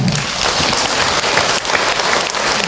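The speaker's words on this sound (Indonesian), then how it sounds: "Buat tepuk tangan untuk Ahilman ya." Loud, dense applause from a crowd at an Islamic sermon, a continuous wash of clapping that stays strong through a short stretch.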